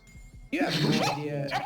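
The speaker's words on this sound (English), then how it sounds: "Yeah, that's my dog." A pet dog barks and yips indoors in a home room, the short sounds mixed in with a voice talking over them.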